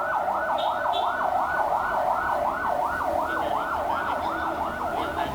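An ambulance siren in Indonesia wails in a fast, repeating up-and-down sweep, fairly close and steady, over a low hum of road traffic.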